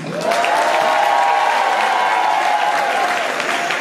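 An audience at a live show breaks into sustained applause, with dense clapping rising quickly and holding steady at close range for several seconds.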